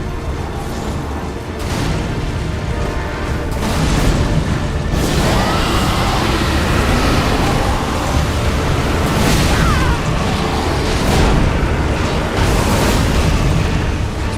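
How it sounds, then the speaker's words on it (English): A big, rumbling explosion in Elden Ring with the Convergence mod, a dense roar that swells and keeps churning for many seconds, loud and sustained, with rolling bursts layered through it. "But actually hitting the explosion."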